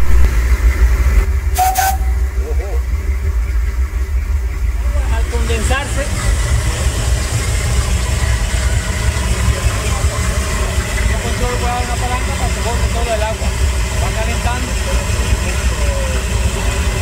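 An old steam locomotive being prepared in eastern Cuba hisses continuously as steam escapes from its open cylinder taps, a loud, steady roar with a brief sharp burst early on and people talking under it.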